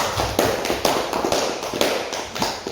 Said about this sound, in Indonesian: Dan lagi aplaus untuk kedua.